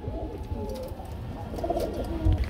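Racing pigeons coo in low, soft, repeated calls close by, with a few brief chirps and shuffling noises around them.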